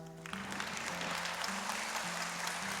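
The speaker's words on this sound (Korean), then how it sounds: "우리 장로님에게도 한번 큰 박수 한번 쳐주시면 감사하겠습니다." A church congregation applauds an elder during a Sunday worship service, a dense, even wash of clapping that fills the room throughout, with a low sustained tone sounding beneath it.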